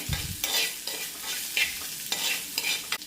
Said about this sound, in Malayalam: ഒന്നിളക്കി കൊടുക്കാം ഇഞ്ചിയുടെയും പച്ചമുളകിൻ്റെ ആ പച്ച മണമൊക്കെ ഒന്ന് പോയി കിട്ടട്ടെ